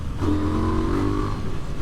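KTM 990 Duke R parallel-twin motorcycle engine revs in a steady, loud drone, holding pitch through the revs from near the start to the end, with no talk.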